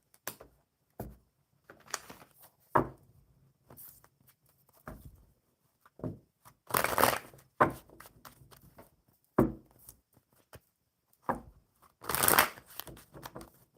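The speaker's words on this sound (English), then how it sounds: "One more good shuffle for Faith." Playing cards being shuffled at a live coffee club card session, with soft riffling and scattered papery bursts separated by quiet gaps, growing louder in a few longer runs.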